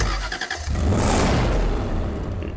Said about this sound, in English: Nice engine startup sound, by the way.